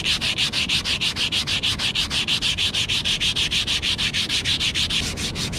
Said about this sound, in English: So I'm gonna use this sandpaper. I'm gonna rub this down.